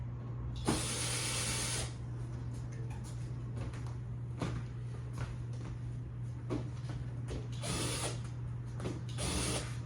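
Screws are being taken out of an LG 65UN7300AUD television with lines in its picture: short bursts of whirring and ratcheting with scattered clicks over a constant low hum.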